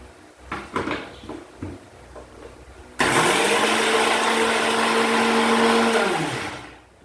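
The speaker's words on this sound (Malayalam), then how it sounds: "ഇനി നമുക്ക് ഒരല്പം തൈരൊഴിച്ച് ഇത് അരച്ചെടുക്കാം" A mixer grinder grinds coconut with curd in a small bowl, starting abruptly and running as a loud steady whir for about four seconds before winding down, with brief handling clatter just before.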